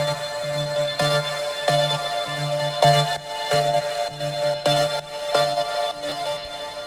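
Trance synth loop from a PML patch, now run through LFO processing that reshapes its transients into a different syncopated pattern; bright tonal notes pulse rhythmically over a low sustained tone, loud and unaccompanied by speech.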